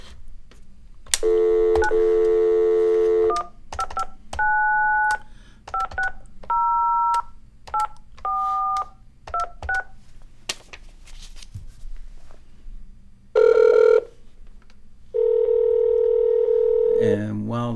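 A phone dial tone is followed by a quick series of touch-tone button beeps, then ringback tones sound in bursts; the dialing is close and clear.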